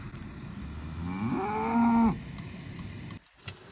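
A cow in a field gives a single loud, drawn-out moo that swells and then cuts off, followed by quieter outdoor background sounds.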